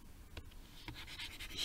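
A pen scratching across paper as a calculus working is written out, quiet short strokes and taps in an intermittent rhythm, close by and faint.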